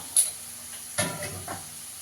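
Ground turmeric, Kashmiri chili, coriander and cumin frying in a pan for a fish curry, stirred with a spoon: a few short scraping strokes over a faint sizzle, close, with no talk.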